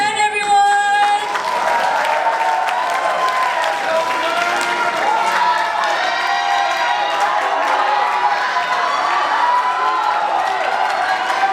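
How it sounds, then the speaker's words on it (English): Pageant audience cheering for the top 10 contestants, a sustained wash of applause, whoops and shouts from a large crowd, loud and continuous throughout after a brief opening tone. "let's cheer for top 10, everyone"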